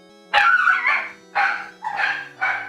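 Dogs bark in an excited, irregular volley of about five close, loud barks with brief gaps between them, set against a faint steady tone.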